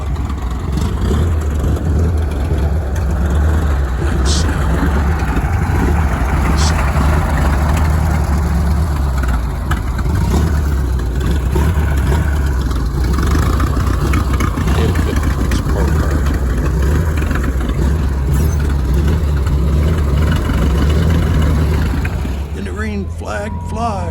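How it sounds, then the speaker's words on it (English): Vintage race cars of the Ragtime Racers idle while staging up at the Ironstone Concours d'Elegance, a loud, steady low engine rumble filling the whole stretch, with someone talking over it. "And the cars get to stage up. Here they are staging up."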